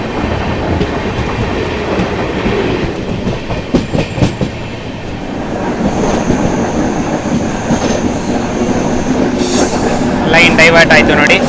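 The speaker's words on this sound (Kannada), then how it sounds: "ಆ ಕಡೆ ಒಂದು ಟ್ರೈನ್ ಬರ್ತಿದೆಯಲ್ಲ" An intercity express train runs on the Dharmavaram–Pakala line, a loud continuous rumble and clickety-clack with brief wheel squeals, rising toward the end as it approaches, with talk over it.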